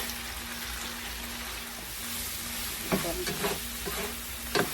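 Chicken sizzling in a frying pan with Chinese sausage for pancit sotanghon. A steady close hiss carries a faint hum underneath, and short scraping stirs come near the end.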